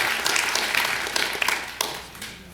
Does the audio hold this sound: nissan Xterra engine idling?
no